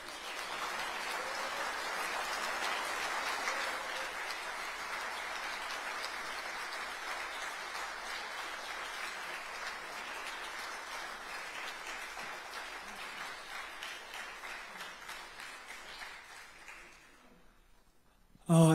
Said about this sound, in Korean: 여러분 환영과 격려의 박수 부탁드립니다.